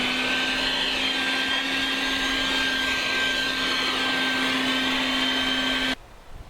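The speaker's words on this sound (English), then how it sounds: "So I'm going to try and hoover it out with my crappy wet and dry here." A cheap wet and dry vacuum cleaner hoovers debris out of an engine block near the crankshaft, a loud steady motor drone with a constant whine that runs unbroken, then abruptly cuts off near the end.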